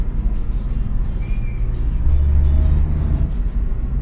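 A Mitsubishi L300 drives fast past on a road, heard as a loud, steady low engine and tire roar that swells slightly midway.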